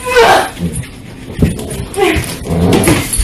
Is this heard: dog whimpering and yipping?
yes